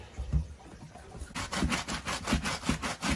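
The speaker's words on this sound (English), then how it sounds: "I'm going to go ahead and start with my medium texture brush. I'm going to dip that in my solution. Then we're going to go ahead and begin scrubbing." A medium texture brush dipped in cleaning solution scrubs an Air Jordan 11 sneaker, starting after a short pause with rapid rhythmic back-and-forth strokes, close and steady, with no talking.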